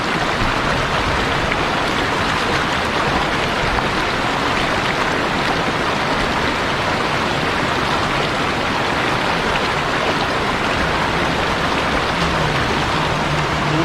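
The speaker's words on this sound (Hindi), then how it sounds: "आज बारिश हो रही है" Rain falls steadily near Mahodand Lake in Swat, a dense, even hiss of drops that never lets up, close and fairly loud throughout.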